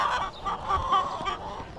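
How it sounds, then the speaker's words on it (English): Chickens clucking and squawking inside a coop on a winter morning at a homestead, a close, busy cluster of overlapping calls and honk-like squawks with no talking. "Just headed over to the chickens."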